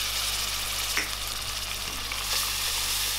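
Ginger-garlic paste fries with shallots in a pan for a chickpea curry, giving a dense, constant sizzle up close with a few faint stirring scrapes and no voices.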